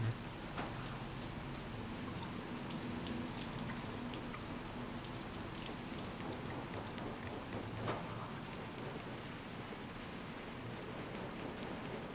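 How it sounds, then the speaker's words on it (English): Steady rain patters continuously on surfaces, a dense even hiss with scattered nearby drops, sustained and moderately loud with no voices. "Well, no, fine, fine, there's rain."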